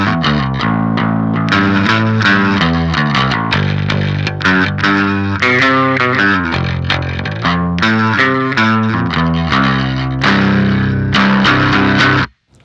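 Electric guitar played through an Electrojunk BOOst treble boost pedal with the volume turned all the way up, giving a bright, driven tone in a continuous run of notes and chords that stays loud, alone, before stopping abruptly at the end.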